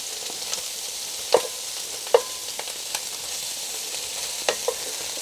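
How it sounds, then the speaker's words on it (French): Sausages browning in a frying pan for Réunion-style rougail, a steady close sizzle broken by several sharp spatula clicks and stirs at irregular intervals, no voices. "Tu vois, je les fais bien revenir."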